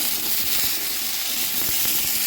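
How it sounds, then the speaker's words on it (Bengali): Cauliflower fries in a pan with a constant close sizzling hiss, steady and unbroken, with faint soft pops underneath. "এখন ফুলকপিটা ভেজে নিচ্ছি"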